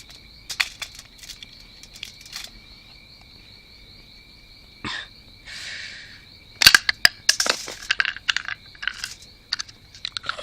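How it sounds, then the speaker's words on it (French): Scissors cutting into the casing of a smoke bomb, heard close up as crisp snips, crunches and clicks, sparse at first and then in a denser cluster, with a faint steady whine behind them and no talk. "je vais pouvoir passer les ciseaux à l'intérieur pour couper."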